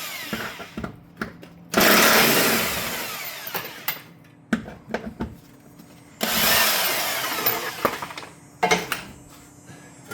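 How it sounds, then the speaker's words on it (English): A 17mm socket on a power tool strips the two rear shock bolts from a 2016 Volkswagen Jetta, two long loud whirring bursts with sharp clicks and clanks of metal in between. "You're going to use a 17mm socket to remove the 17mm two bolts on the shock."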